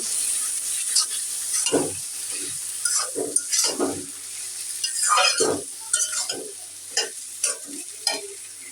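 Spices tempering in hot oil in a pan for a tomato, potato and egg dish, with a steady sizzle and scattered scraping and clinking strokes of a utensil, close and fairly loud, no talking.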